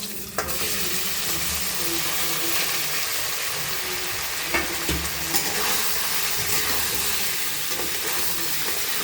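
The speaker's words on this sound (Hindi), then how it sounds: "ऐसे भूनना है 5 मिनट।" Homemade paneer, made from rice flour, frying in oil in a kadai produces a loud, steady sizzle and hiss up close, with a sharp clack early on and scattered stirring knocks, without speech.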